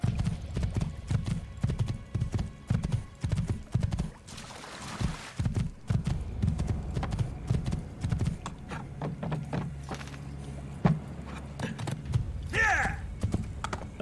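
Horse hooves clip-clop steadily in Assassin's Creed 2, a rhythmic run of hoofbeats under game music and ambience, with a brief whinny near the end.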